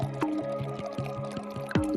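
Water trickles and drips into a homemade ink mixture of ground oak nuts, wasp larvae, ferrous sulfate and gum arabic, with a steady run of small plinks and splashes, close and fairly loud, no voices.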